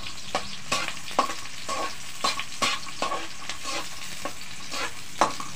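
A spatula clicks and scrapes rhythmically against a pan while garlic and onion sauté with a soft, continuous sizzle underneath, close and moderately loud.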